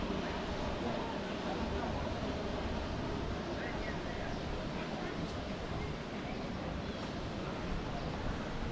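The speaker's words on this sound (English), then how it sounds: "I love that sound of surf." Surf waves rolling onto the beach at Paguera, Mallorca: a broad, continuous wash of rushing water mixed with wind buffeting the microphone, steady and moderately loud with no distinct individual wave breaks.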